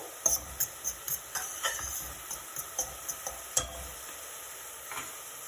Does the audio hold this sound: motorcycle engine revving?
no